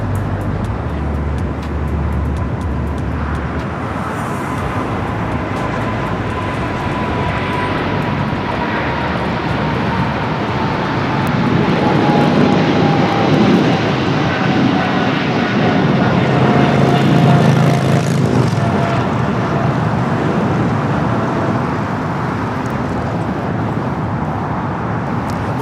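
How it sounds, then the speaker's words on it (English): Korean Air Cargo Boeing 777 rolling down runway 25R at LAX for takeoff, a broad distant jet roar that swells in the middle and then eases, with a faint descending whine and background traffic hum. "We do have a Korean Air Cargo 777 now rolling down 25 right."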